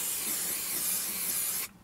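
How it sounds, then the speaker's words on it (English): A can of contact adhesive sprays onto the contact area of a budget camper van's interior in one steady, close hiss lasting over a second before it cuts off abruptly, with no talking. "You're going to spray the contact area"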